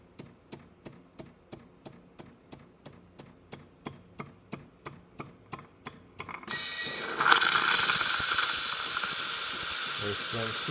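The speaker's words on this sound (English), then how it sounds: "Very strong steam." A Gaggia Anima espresso machine clicks rhythmically as it heats, then its steam wand bursts into a loud, steady, close hiss that lasts to the end.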